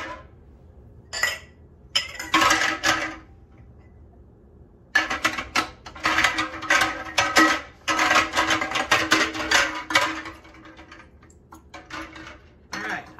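Glass canning jars set one after another into a home canner, giving clustered clinks and knocks of glass on metal in irregular bursts separated by short pauses.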